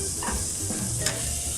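Sliced onions and carrot strips stir-fry over medium heat in a pan, a steady continuous sizzle with light scraping from stirring, close and fairly loud with no talk.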